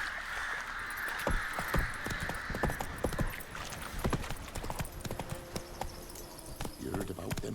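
Hooves of the horse Roach galloping in The Witcher video game, a fast, steady clip-clop rhythm close and loud throughout, with a voice speaking over the hoofbeats.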